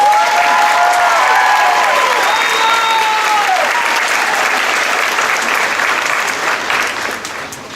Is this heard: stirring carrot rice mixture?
no